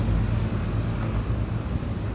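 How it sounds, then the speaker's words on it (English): Steady low rumble of heavy traffic and trucks at a main downtown intersection in Naperville, Illinois, a continuous dense roar with no single vehicle standing out. "got a lot of trucks rumbling behind me"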